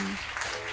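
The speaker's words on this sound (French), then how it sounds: "Acclame très fort Jésus-Christ" A church congregation claps loudly in acclaim of Jesus Christ during a Sunday service, a dense, continuous wash of applause from many hands in a reverberant hall.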